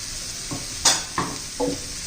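Bottle gourd sabzi with roasted peanut powder is stirred in a pan, three or four brisk scraping strokes with a spoon rising over a soft, steady sizzle, close by and with no speech.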